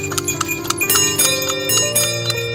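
Bell of a horse-drawn dokar cart jingling in quick, repeated bright clanks, close and fairly loud, with a steady ringing tone underneath.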